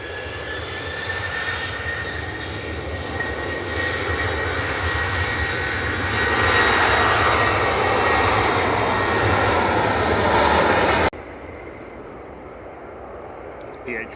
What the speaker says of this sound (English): KLM departing back to Amsterdam now